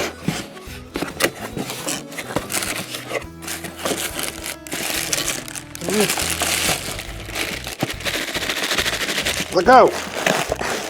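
Packaging being handled while an ACROpow cordless inflator is unboxed one-handed, with scattered crinkles, rubs and rustling bursts running under steady nearby talk.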